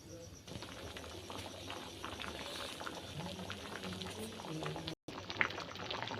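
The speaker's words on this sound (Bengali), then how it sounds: "এবার এটা কিছুক্ষণ ফোটানো হবে" Ghugni cooked with goat fat simmers in a pot, a continuous soft bubbling and crackle that stays faint and close throughout, with a brief dropout near the end.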